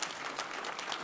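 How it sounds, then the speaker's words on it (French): Brief, fairly faint burst of audience applause at a French vegetable growers' congress, an even wash of clapping with no voices. "Merci, on peut les applaudir bien fort."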